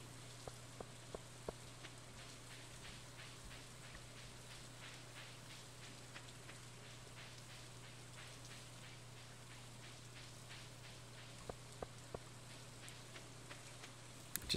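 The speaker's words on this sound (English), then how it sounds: "I don't think we're gonna spend time fishing on a rainy day" Soft rain in Stardew Valley patters steadily at low volume, with occasional crisp droplet ticks over a faint constant hum.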